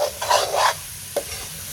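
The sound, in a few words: tomatoes and onions frying in a pan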